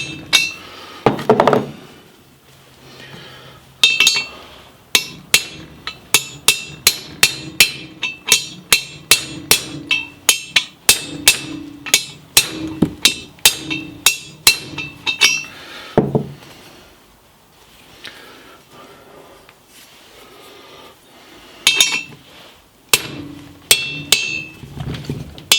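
Metal-on-metal hammer strikes driving the bearing race out of a Pontiac 9.3 third member, sharp ringing blows in steady runs with short pauses between, close and loud.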